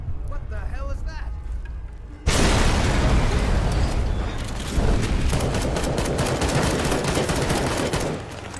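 A tank in the Fallout New Vegas Frontier mod fires and sets off a huge explosion that erupts abruptly into a sustained, roaring wall of noise. Crackling gunfire and further booms follow, and a voice speaks through the din.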